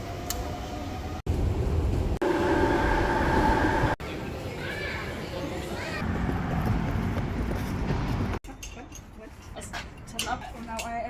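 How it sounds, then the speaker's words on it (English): Rumble and rattle of a train running on rails with a passenger aboard, loud and steady with brief cuts, talk mixed in, and a lighter, quieter stretch near the end, on the way to a comic convention in London. "We jumped on a random train."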